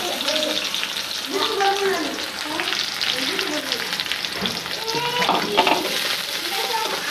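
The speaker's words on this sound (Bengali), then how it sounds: "পেঁয়াজটি কি সুন্দর করে ভাজা ভাজা করে এলো" Chopped onions and garlic sizzle and crackle steadily in a hot pan, a continuous frying hiss with occasional brief voice-like tones rising over it.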